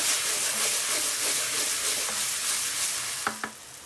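Onions fry in a little extra oil, giving a loud, continuous close-up sizzle with soft stirring, then a couple of sharp clinks near the end.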